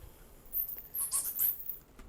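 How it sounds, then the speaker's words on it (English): High-pitched chittering squeaks of bats in Armero, Colombia, faint and scattered in short bursts against a quiet hiss, with no talking. "What you hear is basically bats. It's all bats."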